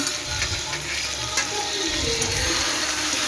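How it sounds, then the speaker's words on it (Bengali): Spice paste for a duck curry fries in a pan with a continuous close sizzle and faint intermittent stirring, loud and even throughout. "এখন ভালোভাবে মশলাটাকে কষিয়ে নেব।"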